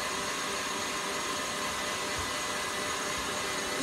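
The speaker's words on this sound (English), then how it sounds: "Just going to turn the mixer off now so you can see how stiff the peaks have gone." An electric mixer whipping a filling mix to stiff peaks, a continuous loud whirring drone that stays steady throughout, close up with no talking.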